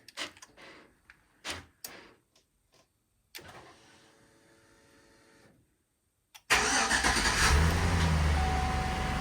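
A few scattered clicks and a whirring crank, then a 2003–2007 GM GMT800 pickup engine catches via remote start and settles into a loud, steady idle.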